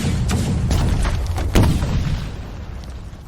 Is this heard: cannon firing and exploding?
yes